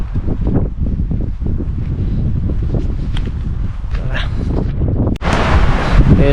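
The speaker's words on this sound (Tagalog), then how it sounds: "Ayun na, may kalakasan talagang hangin dito." Strong wind buffets the microphone at a seaside campsite in Malico, San Nicolas, Pangasinan, a steady loud roar with gusty rumble throughout and a brief dip near the end.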